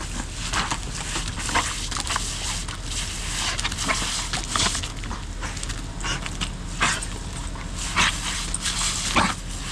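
A dog whimpers and yips repeatedly outdoors beside a concrete shed-building site, its cries mixed into a steady, fairly loud background noise.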